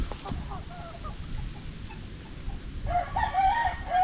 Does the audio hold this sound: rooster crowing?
yes